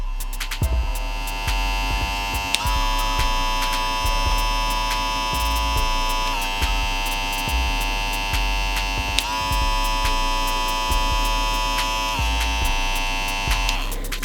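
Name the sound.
TPOB Play hair clippers running on most powerful mode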